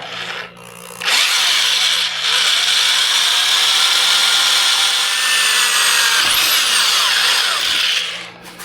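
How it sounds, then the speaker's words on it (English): A small hole saw drills a camera hole through the body of a Chevrolet Silverado, a loud steady grinding whine that runs continuously for about seven seconds before winding down. "the camera actually comes with the little hole saw for the camera"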